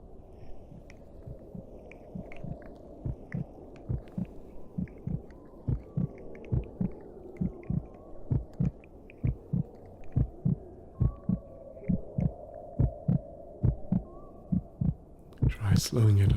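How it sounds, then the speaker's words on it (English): A heartbeat in an ASMR medical exam roleplay thumps steadily and close up, a regular series of soft low double beats over a faint hum, with a louder noise at the very end. "Concentrate on the sound of your own heartbeat."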